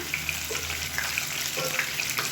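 Shallots and garlic cloves sauté in oil in a pan, a steady soft sizzle with occasional stirring scrapes, fairly quiet and with no talking.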